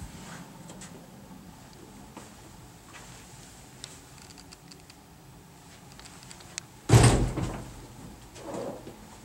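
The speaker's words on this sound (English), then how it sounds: "This door on our right is under the stairs storage." An under-stairs storage door in a single-family home is opened or closed, one sharp close thud near the end followed by a softer knock, after a quiet stretch of faint room noise and small ticks.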